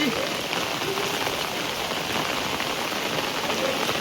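Steady rain falling on surfaces around a village, a dense even patter close by for the whole stretch, with faint speech in the background.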